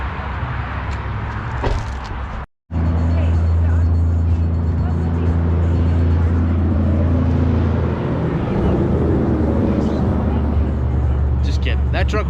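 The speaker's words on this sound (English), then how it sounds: "That truck was pretty loud" A loud truck rumbles past at a car show, a deep, heavy engine drone that kicks in after a brief dropout and holds strong and close for several seconds, with faint background voices.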